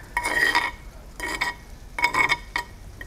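Shrimp stir-fried in a pan with chili and shrimp paste spice, utensils scraping and clinking in four short bursts of sizzle and stirring, close and fairly loud with pauses between.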